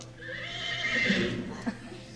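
A horse whinnies at moderate distance, a drawn-out neigh with a faint hoof tap near the end.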